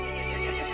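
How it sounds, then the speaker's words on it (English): A horse neighs loudly in the video game Resident Evil Village, a sustained whinny under a steady, dense game background with no talking. "The horse grew angry and summoned the other monsters."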